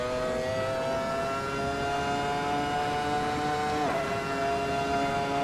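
An FW24 racing car engine revving through high-speed corners, a loud, continuous high-pitched whine with a rich harmonic trill, briefly dipping in pitch midway as it shifts before pulling on again.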